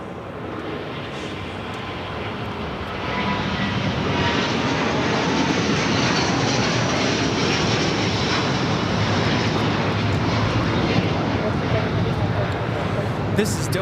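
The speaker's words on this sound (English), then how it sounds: "This is Delta Airlines Flight 7 taking off to Tokyo Haneda on the A330neo." A Delta Airbus A330neo jet roars on its takeoff run at LAX, a broad steady engine rumble building and holding, heard at a distance under people talking.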